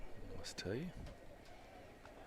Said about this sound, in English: Hear the storm bird in the background, so rain coming in the next 10 days.